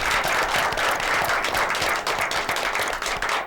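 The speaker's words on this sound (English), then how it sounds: "So let's have a round of applause for him." A crowd claps enthusiastically for firemen and police officers at a late-night show, a dense, steady wash of applause filling the whole moment without any voices over it.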